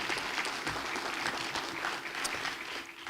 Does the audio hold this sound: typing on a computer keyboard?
no